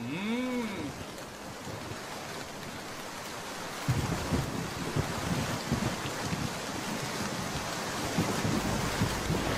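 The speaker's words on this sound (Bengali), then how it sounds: "এই বৃষ্টিতে নদীর তল তো একেবারে চওড়া, মাছের জন্য একেবারে আদর্শ সময়।" Steady cartoon rain falling by a river, a dense, even hiss that thickens slightly partway through, opening with a brief rising tone.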